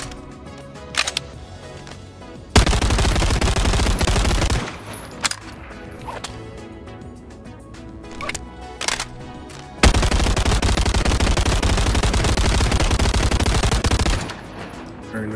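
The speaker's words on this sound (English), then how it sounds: "up next is the Thompson, but with a drum mag" Thompson submachine gun fitted with a drum magazine firing in the VR game Bonelab: two long, loud sustained bursts of automatic fire, each several seconds, with a few single clicks and handling noises between them.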